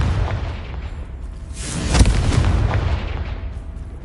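A Confringo spell explosion in the video game Hogwarts Legacy bursts as a loud, rumbling boom with a sharp crack at its peak, set against dense, roaring game noise that fades slowly afterward.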